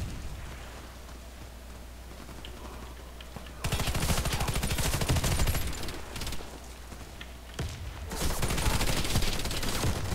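Automatic gunfire in the online shooter Warface during a team deathmatch, starting after a quiet stretch, then sustained loud bursts with a short break before resuming.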